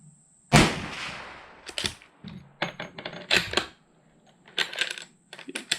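Several sharp rifle shots from a Mossberg Patriot bolt-action chambered in .350 Legend, fired at a range in an irregular sequence, each loud crack followed by a brief decaying echo and quieter handling noises between.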